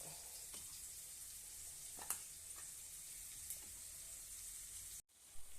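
Masala for paneer kofta gravy fries in a pan, giving a steady close sizzle with a few brief stirring clinks before it cuts off abruptly near the end.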